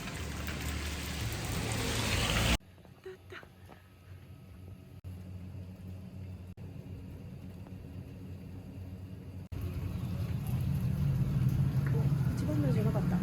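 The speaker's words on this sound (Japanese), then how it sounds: "雨もめっちゃ降ってます" Heavy rain pours outside a dim sum restaurant in Hong Kong before dawn, a steady hissing downpour with passing traffic that shifts in level as the scene moves.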